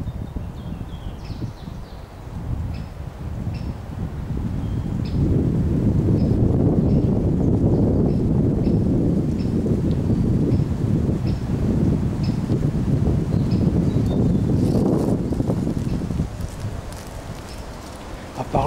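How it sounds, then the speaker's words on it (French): Wind roars through a forest by day as strong, rushing gusts buffet the microphone, swelling to a loud, sustained blast midway before easing off, with faint rustling and occasional high chirps above. "À part le vent, comme je vous dis, il n'y a que du vent"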